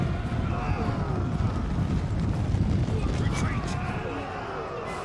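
Horse Guards cavalry charging in Empire: Total War, a loud, dense rumble of many galloping hooves with distant volleys and battle noise beneath, while someone speaks over it.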